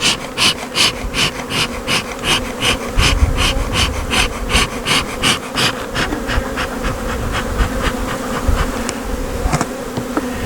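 Honeybees fly in the air around an open hive during a colony inspection and split, giving a steady, dense buzzing close by that carries on throughout.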